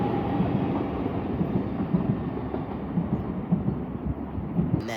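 A Class 800 IET train pulling into London Paddington, a steady heavy rumble of wheels on rail with rhythmic clickety-clack over the joints, close and loud throughout with no voices.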